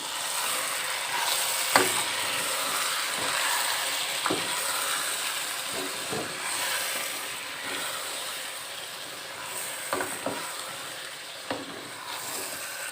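Brinjal masala with coriander, mint and green chillies being mixed with a spoon, a soft continuous sizzle under a few scattered scraping clicks spaced several seconds apart, with no voices.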